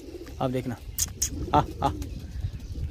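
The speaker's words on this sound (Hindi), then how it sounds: "पूरे कबूतर आ गए, देख सकते ये इतने चने उतावले हो रहे हैं" Pigeons crowd in to peck at scattered chickpeas, giving a few soft, low coos up close, while someone talks briefly over the birds.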